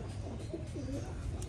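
Soft, low cooing of a flock of pigeons close by, a rounded warbling call repeated over a dense rumbling background.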